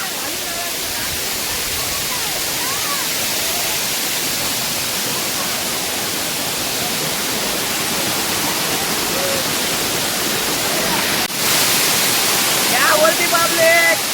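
Mini waterfall at Shahapada dam in Pen taluka, a steady broadband rush of falling water close by, continuous throughout, with faint voices and brief louder splashing near the end.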